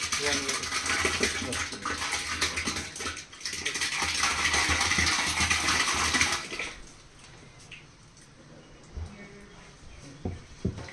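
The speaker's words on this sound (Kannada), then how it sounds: "ಮೊಸರು ಈಗ 6 ಲೀಟರ್ ಮೊಸರನ್ನ ಅದಕ್ಕೆ ಹಾಕ್ತಾ ಇದ್ದೀವಿ." Six litres of curd are poured into a container while panchagavya organic fertilizer is being made at a temple monastery. A loud, steady wet gushing runs for several seconds, then cuts off, leaving faint knocks and voices nearby.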